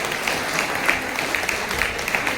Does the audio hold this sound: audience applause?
yes